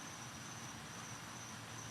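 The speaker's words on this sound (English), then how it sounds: "Oh, you also hear crickets?" Crickets chirp in a steady, continuous trill, a thin high tone running unbroken beneath a low background hum, fairly faint and with no voices.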